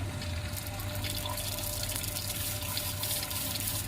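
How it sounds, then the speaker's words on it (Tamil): A car high-pressure washer sprays water once trapped air has cleared, giving a strong, continuous hiss with a faint steady motor hum underneath, close and loud, with no talking. "ஓகே, ஸோ இப்போ தண்ணி வருது, பார்த்தாலே தெரியும்."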